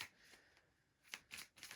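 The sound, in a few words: shuffling tarot cards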